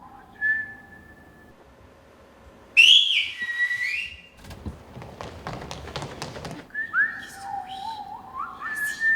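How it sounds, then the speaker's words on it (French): A person whistles the Aas shepherds' whistled language, sharp, sliding tones in short phrases, with pauses between them and some tapping and thumping sounds in the middle. "J'apprends la langue en même temps que j'apprends à la siffler."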